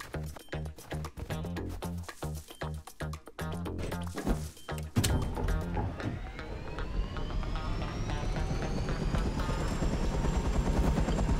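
A helicopter in the video game Rust whirs with steady rotor noise behind rhythmic music at first, then a loud crash-like burst gives way to a continuous engine drone that holds to the end.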